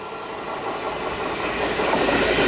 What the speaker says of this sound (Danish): Her har vi IC-toget til Københavns Lufthavn.